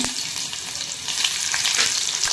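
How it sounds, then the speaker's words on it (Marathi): Onions, green chilies and crushed garlic fry in hot oil for a dried Bombay duck chutney, a steady close hiss and crackle with occasional stirring. "आणि भरपूर असा कांदा मस्त असा कांदा ब्राऊन होईपर्यंत भाजून घ्यायचा आहे"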